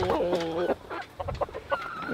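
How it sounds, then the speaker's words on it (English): Chicken clucking close by on a farm during chores, a few short throaty clucks and squawks in quick succession, with faint background noise. "Be nice to the chicken."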